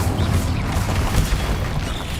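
A Confringo fire spell blasting in a Harry Potter video game, heard as a loud, sustained roaring explosion that fills the moment, dense and rumbling from start to end, with no voices over it.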